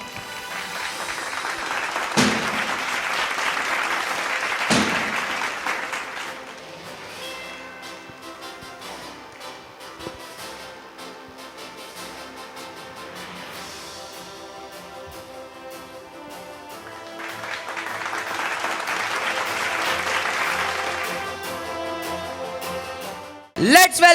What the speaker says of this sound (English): Let's encourage them with a huge round of applause.